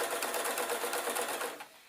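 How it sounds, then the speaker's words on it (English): An old foot-pedal sewing machine runs in a rapid, steady rattle of stitching a kilt, close and fairly loud, slowing and stopping near the end. "I'm on an old-fashioned type machine with a foot pedal"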